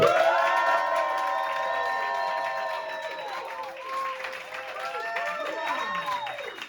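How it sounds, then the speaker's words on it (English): A pub comedy audience cheers, whoops and claps loudly for a stand-up act taking the stage, with rising shouts and whistles over steady applause that stays strong throughout. "Lots of cheering and clapping"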